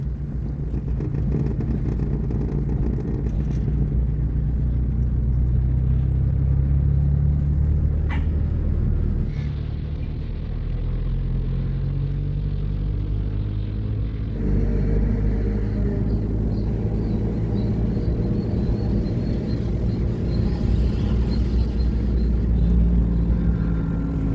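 A car drives on a straight road under light acceleration, its low engine rumble steady and continuous from inside the cabin, with a slight shift in tone partway through and no talk.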